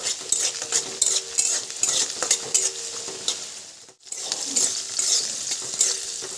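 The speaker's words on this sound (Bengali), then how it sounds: "খুব ভালো করে একটু ভেজে নিয়েছি" Green peas (matar) frying in oil in a wok, stirred repeatedly: loud, close sizzling with scraping and clinking strokes. The sizzle drops out briefly in the middle, then carries on.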